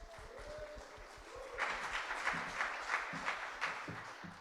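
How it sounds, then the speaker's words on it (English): After a moment of talk, a crowd at the launch event for the Liverpool International Song Contest 2022 breaks into cheering and applause, a moderately loud wave of clapping with a few voices mixed in. "So can we give him a big cheer this end?"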